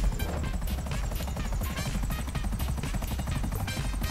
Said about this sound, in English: Oh, it's helicopters.